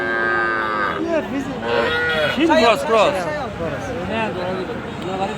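A calf moos repeatedly at a crowded village cattle market, with loud overlapping bellows from several nearby cattle mixed with steady chatter from people around.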